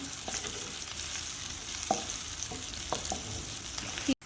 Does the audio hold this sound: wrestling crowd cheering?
no